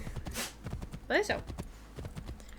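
Horse hooves clip-clop at a walking pace while riding in Assassin's Creed III, a steady patter of game hoofbeats mixed with a brief bright tonal call and other game sounds around it.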